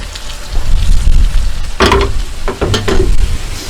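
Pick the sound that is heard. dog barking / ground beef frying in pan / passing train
ground beef frying in pan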